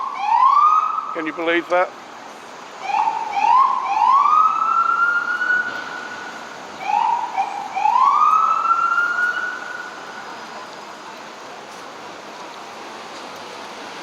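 A police car siren on 14th Street in Manhattan at 3rd Avenue, loud and close, rising and falling in wails and yelps over street noise, then stopping. Someone speaks briefly during it.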